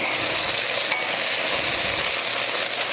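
Garlic sizzles steadily in a hot pan, a constant bright crackling hiss with no break, close and fairly loud with no voices over it.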